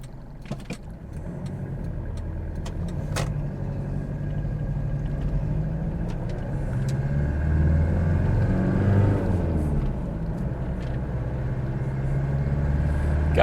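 A 2.8 liter 3L diesel engine in a 1989 Toyota Hilux LN106 pickup runs with a steady low rumble heard from inside the cab. It is moderately loud and continuous and swells slightly midway, with no talking over it.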